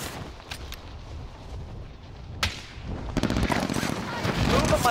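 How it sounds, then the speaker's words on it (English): Gunfire crackles in a video game shooter, scattered single shots followed by rapid automatic bursts that grow louder and denser toward the end. "Oh yeah, that's shooting."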